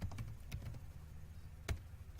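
Light, sparse keystrokes on a computer keyboard, a few soft taps with gaps between them, quiet and close.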